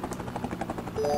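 Helicopter in the Amiga video game Rescue, a rapid rhythmic rotor chop with game tones chiming in toward the end, heard alone.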